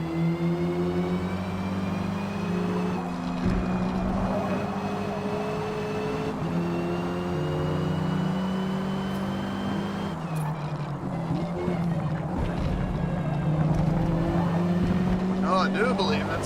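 A Ford race car in Forza roars steadily at high revs, its engine tone shifting as it chases down a Cosworth-powered rival, with someone talking over the continuous sound.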